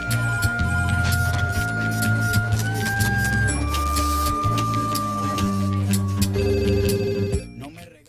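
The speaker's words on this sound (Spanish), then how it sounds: "Melissa Centurión atiende el teléfono" Telephone rings on an Argentine FM radio news show, its loud ringing bursts repeating across the stretch over a busy layered background of station jingle or music before fading at the end.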